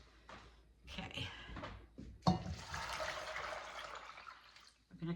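Water pours into an old family bean pot to cover dry cranberry beans. A soft, steady splashing rush lasts a few seconds after some faint clatter, and a quiet voice comes in at the end.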